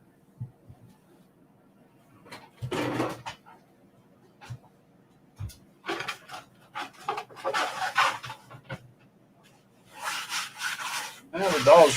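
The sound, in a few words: dogs fussing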